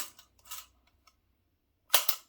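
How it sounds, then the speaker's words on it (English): An RCBS hand priming tool seats a CCI large magnum rifle primer into 6.8 Western brass, giving a few close, quiet clicks and ending in a sharper snap. "I'm using an RCBS hand priming tool."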